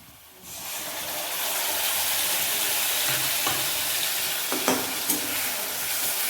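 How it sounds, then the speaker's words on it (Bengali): Onions fry in hot oil for a gravy chilli chicken, a quiet start jumping into a loud, steady sizzle, with a couple of clinks and scrapes as spices are stirred in. "পেঁয়াজটা লাল লাল করে ভাজা হয়ে গেছে। এখন আমি এটার মধ্যে মশলাটা দিয়ে দেবো।"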